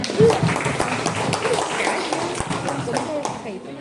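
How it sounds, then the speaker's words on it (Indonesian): Audience applause at a high school graduation and farewell ceremony for twelfth graders, scattered clapping under a loud voice talking over a PA, with sharp individual claps standing out. "Oke, beri tepuk tangan dulu hadirin semuanya."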